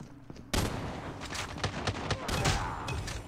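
Video game gunfire from Call of Duty Mobile: rapid bursts of shots close and loud, running almost continuously after a short quiet start.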